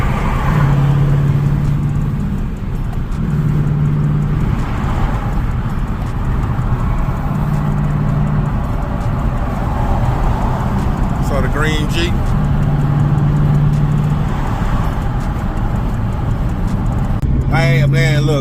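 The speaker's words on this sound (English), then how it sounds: "Still in sport mode, just tapping on the gas" Car engine cruising in sport mode hums steadily and loudly through a late-night drive, with a low droning tone and road noise under someone talking most of the time.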